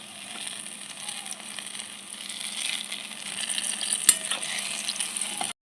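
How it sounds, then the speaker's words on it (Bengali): Palm fruit fritters deep-frying in hot oil, making a steady, close bubbling sizzle that swells slightly before cutting off abruptly, with no voices. "লাল লাল করে ফুলে একইভাবে বাদবাকিটাও আমি ভেজে নিচ্ছি।"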